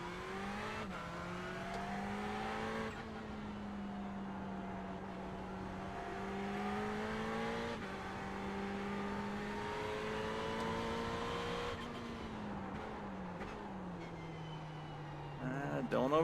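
A Ferrari 488 GT3 race car in the video game iRacing drones steadily at high revs, its engine tone rising and dropping through gear changes, continuous and moderately loud with a brief surge at the end.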